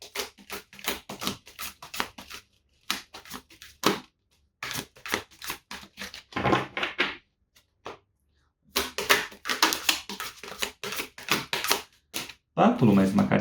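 Tarot cards shuffled by hand in repeated bursts of crisp riffling and slapping, with pauses between, while someone speaks over and between the shuffles.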